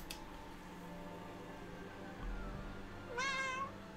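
A house cat gives one clear, fairly close meow near the end, after a faint low mechanical hum from a robot vacuum running in the room.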